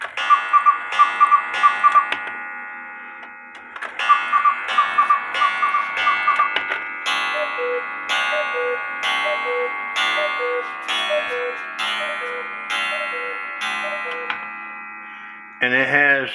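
A Herbert Herr cuckoo clock with a Lear-style cast movement and thick plates ticks steadily and evenly at close range, with a constant tonal ring beneath the beats and no cuckoo call.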